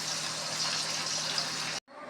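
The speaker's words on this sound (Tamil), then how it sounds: "இந்த மாதிரி பீன்ஸை ஃப்ரை பண்ணிக்கலாம்." Green beans fry in hot oil with a constant, loud, hissing sizzle. The sound cuts off briefly near the end and then resumes.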